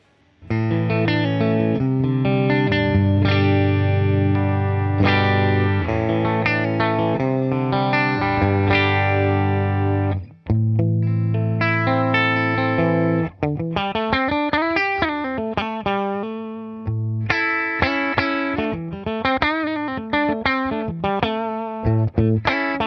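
PRS SE Custom 24 35th Anniversary electric guitar with stock pickups, clean-to-crunchy tone, playing chords and melodic runs with bends, steady and up close with no talking.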